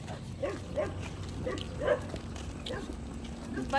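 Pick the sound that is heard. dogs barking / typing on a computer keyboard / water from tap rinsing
dogs barking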